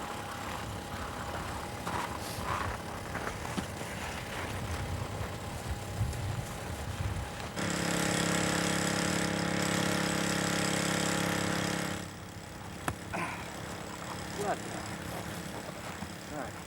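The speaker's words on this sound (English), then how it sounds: "The pump works and the Otter's tank fills with what we hope will be enough to see us to the pole." Fuel pump running steadily while filling the fuel tank of an Otter aircraft on a polar expedition, a loud continuous mechanical drone from about 7.5 to 12 seconds amid wind and outdoor noise.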